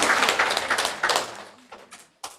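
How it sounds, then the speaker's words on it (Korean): A church congregation applauds during a service. A burst of clapping starts fairly full, thins out and fades, and a brief final patter of claps follows after a short gap. "큰 박수"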